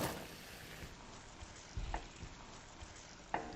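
Potatoes tumble into softened onions frying in a pot for cullen skink, giving a soft steady sizzle with a few light stirring knocks.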